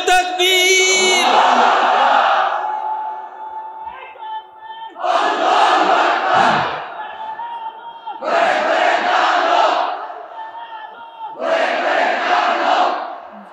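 A large crowd at a religious gathering roars back a takbir response in unison, several long loud chanted bursts separated by short pauses, after a single voice leads the call.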